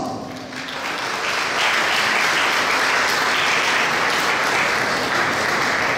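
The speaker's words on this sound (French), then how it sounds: "je vous invite à accueillir la promotion Joël Robuchon de l'ECAM, École catholique d'art, ménager et métier, avec un chaud applaudissement." Warm applause from the audience at a graduation ceremony welcomes the graduating class of a catholic school of arts and trades; clapping swells after a brief quieter start and holds loud and steady.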